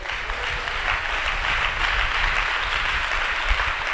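A church congregation applauding together during a sermon, a steady, dense wash of many hands clapping that holds evenly for the whole stretch without a break.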